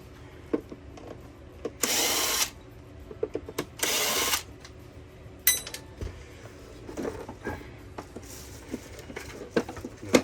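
Power driver spinning screws out of a Hoover carpet shampooer, with two short, loud whirring bursts between scattered clicks, taps and handling knocks of the plastic housing, close by.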